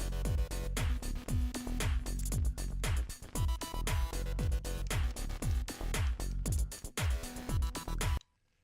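Fast techno track plays as in-game music in the Retail Tycoon video game, with a steady pounding kick drum beat and synth layers, played fairly quietly and with no talking, ending abruptly.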